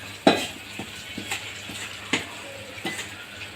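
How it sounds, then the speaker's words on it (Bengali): Hot tempering of dried chili and garlic in mustard oil poured into cooking beef, with a light sizzle under clinks of a metal utensil against the pan and a few scraping stirs, close by. "এবার এটা মাংসের মধ্যে দিয়ে বাগারটা দিয়ে দিচ্ছি।"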